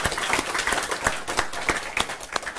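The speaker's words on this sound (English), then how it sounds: "We should applaud" An audience at an academic talk claps steadily for a few seconds, a dense patter of individual hand claps at moderate volume with no voices over it.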